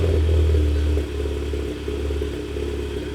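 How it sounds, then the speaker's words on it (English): An Audi TTS with an APR Stage 3 bigger turbo fires up, with a loud low engine burst at the start that settles into a steady, slightly uneven idle rumble, close and alone. "So now it's time to start it."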